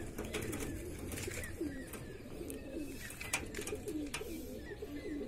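Gola Madrasi pigeons coo softly in repeated low, rolling calls, close by and faint, over a quiet background with scattered small clicks and no speech.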